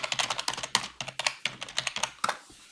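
Rapid typing on a computer keyboard, a quick irregular run of crisp key clicks close up, with no voices over it.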